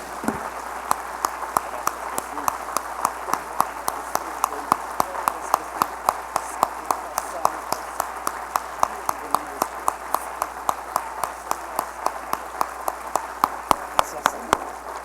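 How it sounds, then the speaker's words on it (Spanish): Steady rhythmic clapping from a church congregation, sharp regular beats over a hum of room noise, continuing evenly throughout. "Vamos a darle un fuerte aplauso al que vive, al que reina por siempre, al Señor Jesucristo."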